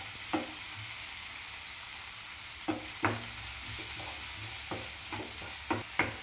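Ginger garlic paste with tomatoes sautés softly in a pan, a quiet steady sizzle punctuated by several sharp spoon taps and scrapes, close and without voices.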